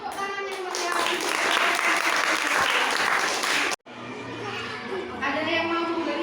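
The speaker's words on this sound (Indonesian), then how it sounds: "Ya, kasih tepuk tangan yang meriah." Applause from a classroom of children fills most of the stretch, dense and steady with some chatter, then cuts out briefly and resumes more thinly alongside a voice.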